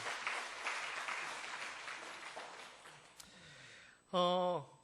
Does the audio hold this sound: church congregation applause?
yes